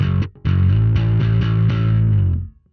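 A bass guitar played through a Sonicake Matribox II Pro multi-effects unit on a slightly driven vintage drive setting, one loud close note ringing with gritty warmth for about two seconds before fading out.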